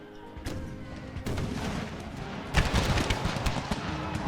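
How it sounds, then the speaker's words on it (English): Cannon blasts and scattered musket fire in a Civil War battle video game, with several heavy booms and a rattle of gunshots growing denser and louder toward the end. "Cannon fire and a bit of musket fire."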